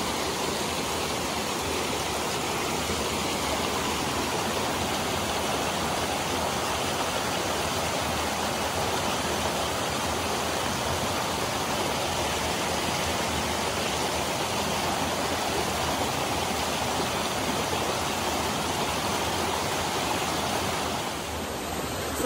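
Water pours over a park spillway near old mill ruins, a dense continuous rushing roar that stays steady and loud throughout with no breaks.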